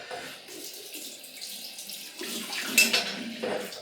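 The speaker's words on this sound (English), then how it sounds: "Cold water rinse." Cold water runs from a tap for rinsing during a shave, a steady close hiss and splash that swells louder toward the end.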